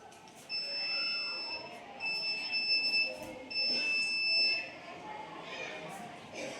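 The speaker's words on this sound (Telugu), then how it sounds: "ఏదైనా అడ్డంగా వచ్చినప్పుడు బజర్" The buzzer on ultrasonic distance-sensor goggles made to help a blind person walk gives three steady high-pitched beeps, each about a second long, close and clear, with faint voices behind.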